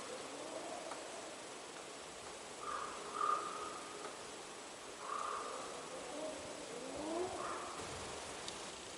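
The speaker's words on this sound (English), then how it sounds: "Now I can hear a raven in the background." A few distant, croaking raven calls spaced seconds apart over a steady hiss of outdoor background noise in the bush.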